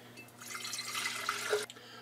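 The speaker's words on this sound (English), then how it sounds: "So let's dump this water in." Water poured into a Vertplanter, a soft splashing trickle that builds over about a second and a half, then cuts off abruptly, quiet and close.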